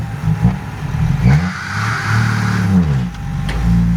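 A vehicle engine revs at close range in repeated surges, rising and falling in pitch with a rough mechanical clatter, loud and with no talk.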